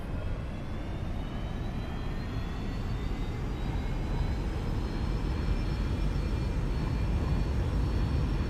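Boeing 747 engines spool up in the X-Plane 11 flight simulator, a steady broad roar with a thin whine rising slowly in pitch, swelling gradually and continuously with no voices.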